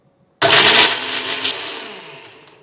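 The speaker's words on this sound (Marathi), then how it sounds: "आणि मिक्सरला डुरकन फिरवून घ्यायचं." Mixer grinder blending green chili, garlic, cumin and ajwain into a coarse paste, a loud whirring burst that starts abruptly and then slowly fades as the motor winds down, with no voices.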